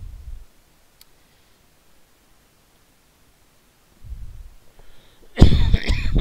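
A few throaty coughs up close: a short one at the start, another after a long quiet gap, then a harsher, louder fit at the end, over X-Plane 11 flight simulator audio.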